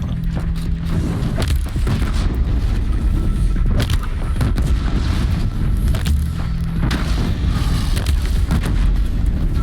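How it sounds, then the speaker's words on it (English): In Horizon Zero Dawn, repeated bomb blasts and booming impacts hit a Scorcher machine, layered with mechanical clanks and continuous loud game noise throughout. "Just hit it with a lot of bombs"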